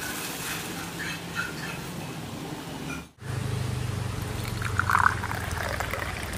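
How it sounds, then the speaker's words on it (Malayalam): Coconut milk is poured into a glass of black tea in a Kerala kitchen, making a steady close trickling pour that begins midway and continues to the end, with no talk. "ഇവിടെ മുക്കാൽ ഗ്ലാസ് കട്ടൻ കാപ്പിയിൽ നമ്മളൊരു നാല് സ്പൂണിനടുത്താണ് തേങ്ങാപ്പാൽ ഒഴിക്കുന്നത്"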